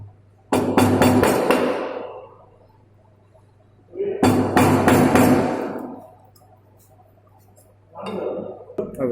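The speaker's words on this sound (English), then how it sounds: "This is mallet, okay, this is chisel." Wooden mallet strikes a chisel while cutting a dovetail joint in wood: a quick burst of several sharp knocks, a pause, another burst of blows, then a softer third round, all close and loud.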